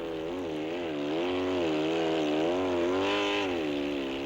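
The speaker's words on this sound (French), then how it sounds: "la puissance du moteur bicylindre de la BMW est imparable" The twin-cylinder engine of a BMW rally motorcycle in the Paris-Dakar Rally drones loudly and steadily, its pitch wavering up and down as the rider works the throttle.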